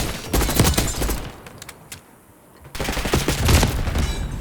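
Rapid bursts of gunfire from a Black Ops 6 video game, loud and dense, dropping to a brief lull midway before another heavy volley resumes.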